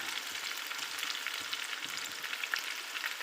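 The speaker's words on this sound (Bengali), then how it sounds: "এদের ভালো করে নাড়াচাড়া করে মিশিয়ে নেব" Onion, garlic, ginger and green chili fry in a pan with a soft, continuous sizzle, punctuated by light scraping as a spatula stirs them, moderately close with no voices.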